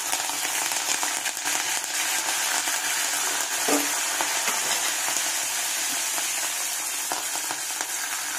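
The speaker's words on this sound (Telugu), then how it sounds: "చిటపట్ల ఆడుతుంది" Curry leaves crackle and sizzle in hot oil with garlic, a continuous close frying hiss dotted with sharper pops, no voices heard.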